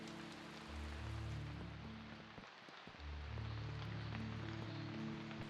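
Steady rain hisses and patters across a surface with a low rumbling hum underneath, dipping briefly midway before resuming.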